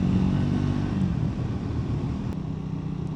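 A Triumph Speed 400 motorcycle cruising in fourth gear at just under 4,000 rpm, around 30 mph, gives a steady, continuous low engine drone with wind noise throughout, no talking.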